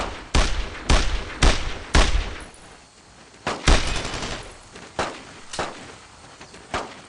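Gunfire in the WWII shooter game Brothers in Arms: Road to Hill 30: a string of loud, sharp rifle and machine-gun bursts, about ten separate cracks spread irregularly with short gaps between them, close and punchy with no voices.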